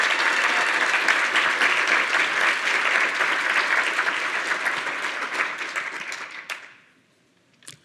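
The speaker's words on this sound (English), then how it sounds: "Can we do another round of applause, please, for Cheryl and for IIDA?" An audience at a design association's annual meeting applauds in a dense, loud, steady round of clapping that holds for several seconds before quickly tapering off into near silence.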